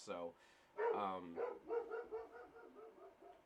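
A pet dog barks in a series of sharp, close yips and barks of varying loudness in a quiet room, mixed with a brief spoken word.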